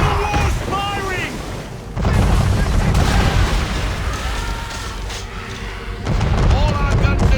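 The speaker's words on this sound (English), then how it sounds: "Man of war's firing!" Heavy cannon fire from an enemy man-of-war in the naval combat of the video game Assassin's Creed III: loud repeated booming blasts and rumbling impacts, with shouting voices over the barrage.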